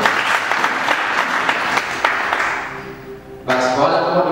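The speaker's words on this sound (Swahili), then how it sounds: "Mshangilie Bwana Yesu kwa makofi." Church congregation applauding, a dense burst of clapping that thins and fades, then a brief louder swell of claps and voices near the end, with talk mixed in.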